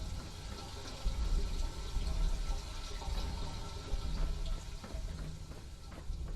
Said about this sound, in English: I can hear the water trickling and all that kind of stuff